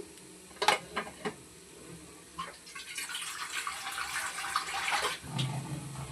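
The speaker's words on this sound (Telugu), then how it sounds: "వాటర్ అయితే వేసేసుకోవాలి" Water is poured into a puffed-rice bajji curry mixture in a pot, a rushing splash of a few seconds after some faint clinks of a utensil.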